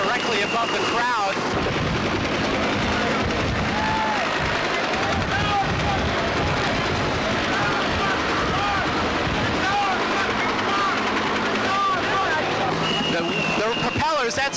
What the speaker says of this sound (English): The propellers, that's the sound of the rotors, the propellers of the helicopter